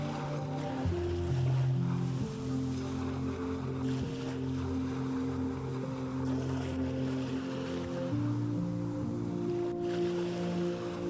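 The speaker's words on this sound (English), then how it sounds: "Its hollow interior resonates with the sound of the sea breeze, transforming the wreck into a natural instrument." Sea breeze and waves wash around a shipwreck off the coast of Greece, a steady, full ambience of surf and wind heard alone, with a sustained low tonal drone beneath.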